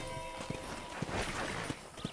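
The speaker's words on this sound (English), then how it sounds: "I picked out a fine horse for you." A horse's hooves clip-clopping at a steady walking pace in Red Dead Redemption, evenly spaced soft thuds over a rustling outdoor ranch ambience, moderately close and without talk.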